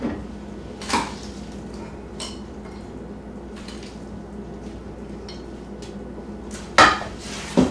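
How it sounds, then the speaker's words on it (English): Salad being dished into a bowl in a home kitchen, with a few sharp utensil clinks against the dish near the start and near the end over a quiet room background. "We'll dish some salad."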